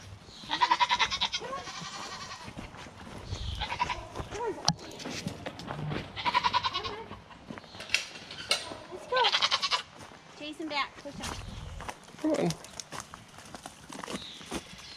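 Several goat bleats sound close by at intervals, mixed with people talking, hoof clatter and rustling handling noises.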